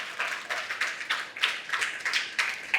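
An audience at a gathering in Nagpur claps in a steady rhythmic beat, about a dozen evenly spaced claps. The sound is fairly faint and distant rather than a roaring ovation.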